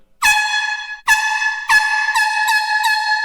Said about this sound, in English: the sound comes out just like an air horn, but it's apparently super loud